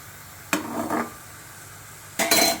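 A spoon scrapes and clinks against a bowl while jaggery is mixed with ghee, two short bursts of stirring noise separated by a quiet pause.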